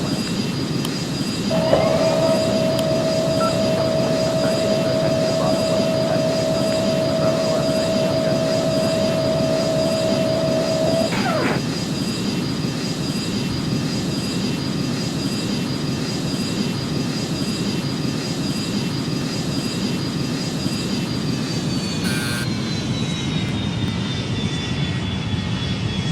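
Boeing 737 jet engines on landing approach into Jeddah, a steady loud roar inside the cabin lasting throughout, with a sustained tone early on and a shift in engine pitch near the end.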